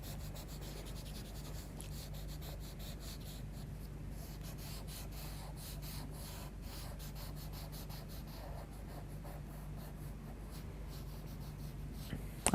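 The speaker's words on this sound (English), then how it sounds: "pick up a paper stump and just start blending that colour in together" A paper stump rubs Derwent charcoal into paper, a faint continuous scratchy scrubbing with quick back-and-forth strokes, close and quiet, with a low steady hum beneath and no talk.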